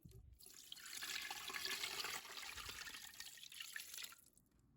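Broth pours steadily into a pressure cooker pot for about four seconds, a broad splashing rush that tapers off at the end.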